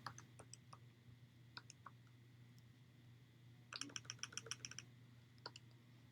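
Keys tapped on a computer keyboard while typing an answer, a faint, close patter of scattered clicks with a brisker run of strokes near the end, over a steady low hum.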